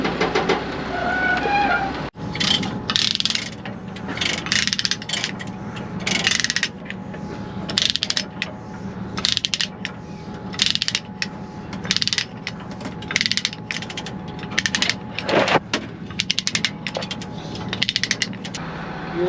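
A ratchet tightening chains on a machine during servicing, heard as repeated close, loud metallic clicking bursts in irregular strokes across the whole stretch, with brief pauses between pulls and no talk.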